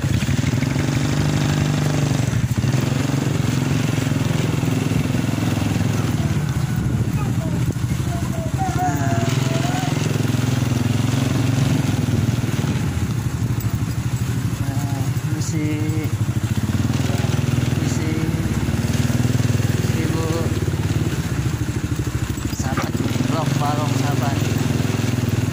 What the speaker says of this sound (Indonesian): Sini banyak parkir motor.